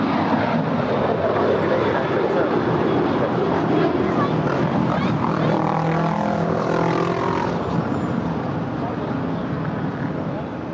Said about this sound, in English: So here we have United 608 to Vancouver. 13-year-old 737-800.